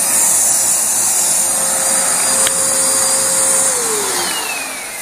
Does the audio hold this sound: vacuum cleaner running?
yes